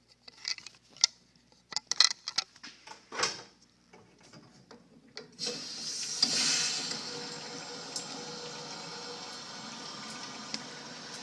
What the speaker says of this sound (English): Should probably tighten up these packings while I'm down here.